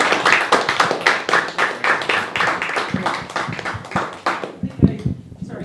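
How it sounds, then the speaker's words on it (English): Applause from a small audience at a stand-up comedy open mic, a burst of brisk hand claps that thins out to a few scattered claps near the end, heard close and fairly loud. "there were the claps"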